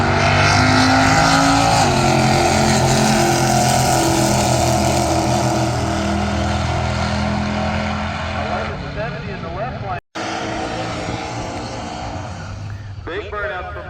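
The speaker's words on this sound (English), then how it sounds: "Big burnout from both sides." Drag race cars at a heads-up racing event do a big burnout in both lanes, a loud, sustained engine roar with tire spin that fades slightly near the end, under a commentator's voice.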